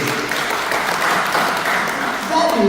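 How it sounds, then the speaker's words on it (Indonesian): Applause in honour of Jesus at a church praise and worship service rises as a dense, even wash of clapping from a congregation, with a voice entering near the end. "Kita berikan tepuk tangan untuk Tuhan Yesus"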